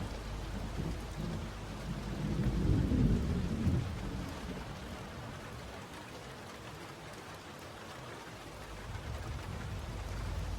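Steady rain falls with a low rolling rumble of thunder swelling and fading, over a constant hiss of drops on surfaces.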